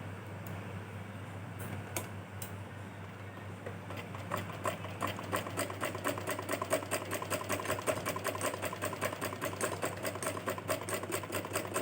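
A sewing machine runs quietly on blouse fabric. Scattered ticks at first give way to a steady, rapid run of evenly spaced stitching clicks over a low hum.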